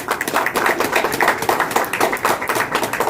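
An audience claps at a doctorate honoris causa conferral ceremony, a dense, lively burst of many hands with a slightly rhythmic pulse, sustained throughout.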